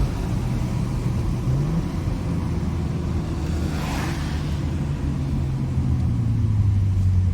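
A tuned BMW with a max pops-and-bangs exhaust map rumbles along on the road, a low steady exhaust drone with engine pitch shifting, heard from inside the cabin with a faint crackle partway through.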